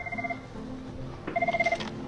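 A desk telephone rings in two short electronic trilling bursts separated by a pause, moderately close in a quiet office with faint background hum.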